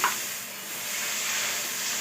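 Orange juice hits a hot tempering of dried red chilli and mustard seeds, giving a steady, close sizzle and hiss with a brief stirring sound at the start and no talking.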